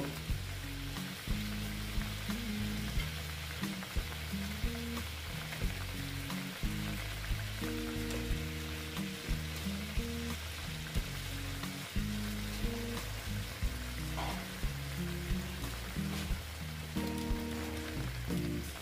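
Katla fish pieces frying steadily in a pan with hot water added, a dense continuous sizzle and bubbling that stays even and close throughout, with no voices.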